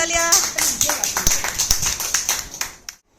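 Students clap together at a picnic outing, a run of quick, close hand claps with lively voices mixed in, ending abruptly.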